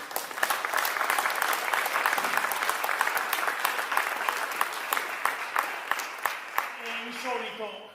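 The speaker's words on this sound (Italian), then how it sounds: "vi chiedo un forte e sincero applauso per Milena Gotti" An audience at a Logudorese Sardinian folk singing event in Ozieri applauds singer Milena Gotti, with loud sustained clapping that thins into scattered claps, and a voice begins speaking near the end.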